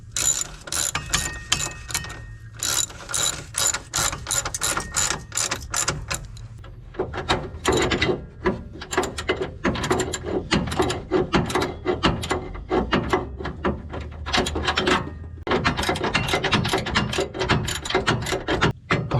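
A ratcheting wrench tightens the nuts and bolts of a retractable bumper step on a 2020+ Chevrolet Silverado HD. Rapid, close metallic clicks come in repeated short strokes with brief pauses, as in slow work in a tight space.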